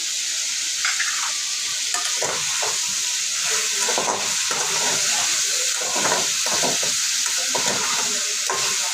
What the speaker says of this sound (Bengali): সেই জন্য একটু ভেজে নিয়ে আমি মশলাটা দিয়ে কষিয়ে দিই